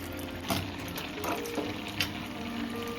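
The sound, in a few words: cashews frying in ghee in a small pan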